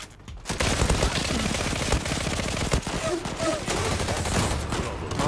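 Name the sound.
Khaybar gun firing rapidly in Zula video game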